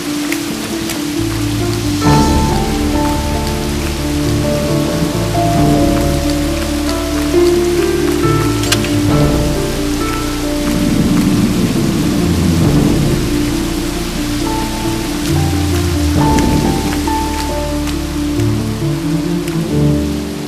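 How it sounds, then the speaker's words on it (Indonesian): Heavy rain pours down continuously with rumbling thunder underneath, a loud, dense, unbroken wash of rainfall that holds steady for twenty seconds with no voices. "Hujan tambah deras, lari yuk."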